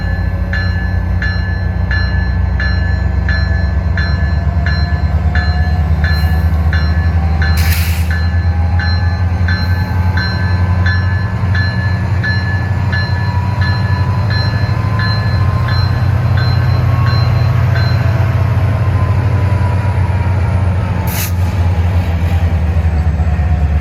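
CSX freight and Amtrak passenger trains roll along the busy RF&P Sub, giving a loud, continuous rumble of wheels and rail cars close by, with thin tonal whines over the top and no speech.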